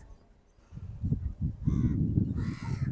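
Crows caw repeatedly near a riverside temple, several harsh calls rising over a low rumble of background noise, growing louder and busier toward the end.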